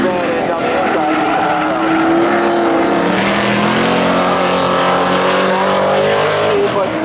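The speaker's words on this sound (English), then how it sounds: "Blazer on the outside. Camaro on the inside. Away they go." A Chevrolet Blazer and a Camaro launch side by side at a Seekonk Speedway spectator drag race. Loud engines rev and climb through the gears, with tire noise, and a commentator's voice sits partly under the roar.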